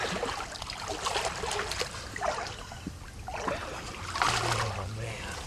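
A deer carcass being dragged and floated through shallow water, with soft irregular sloshing and splashing, quiet and close, in uneven bursts.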